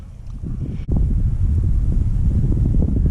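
Strong wind buffets the microphone outdoors while fishing with a cheap cane pole, a loud continuous low rumble with one brief break early on.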